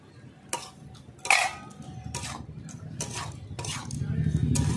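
Crab goes into a pan of cooked-down raw tomatoes: a few sharp clatters and clinks of utensils against the pan, then a soft, steady sizzle that grows louder toward the end.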